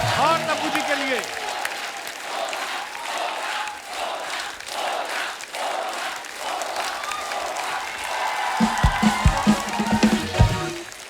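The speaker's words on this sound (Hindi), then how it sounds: "जोरदार तालियां हो जाए अजय साहब के लिए" Loud studio audience applause on The Kapil Sharma Show, mixed with cheering and shouting voices from the crowd, continuing throughout and growing more excited toward the end.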